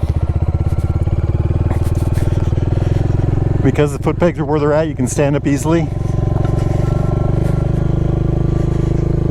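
Royal Enfield Hunter 350 motorcycle engine thrumming steadily and loud while riding, a low continuous rumble throughout with someone talking over it in the middle.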